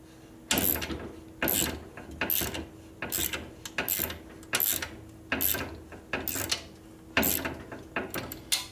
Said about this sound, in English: It's got to kind of rearrange those threads because they're bad, as I said.